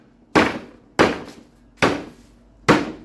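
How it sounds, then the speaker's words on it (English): A hammer taps a staple home through hardwood cloth in four sharp, evenly spaced strikes, each a crisp close impact that quickly decays. "occasionally you have to take a hammer and kind of finish the staple"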